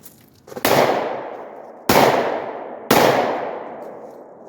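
Three sharp, loud Glock 22 .40 caliber pistol shots, fired one-handed at a range, crack out about a second apart with ringing decay after each and no talking.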